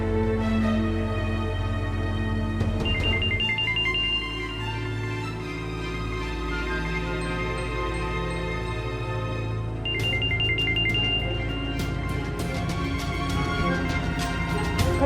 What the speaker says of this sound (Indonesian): Kok teleponnya nggak diangkat, Mas?